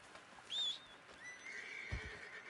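A horse in the video game Red Dead Online gives a short, shrill whinny, followed by a softer snort and a couple of hoof clops, heard fairly faint against quiet game ambience with no talking.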